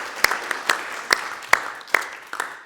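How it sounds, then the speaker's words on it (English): A small audience at a community college board of trustees meeting claps for new board members, with sparse, distinct claps standing out over a softer background patter. "if you can all just join me in a round of applause for our 2 new board members"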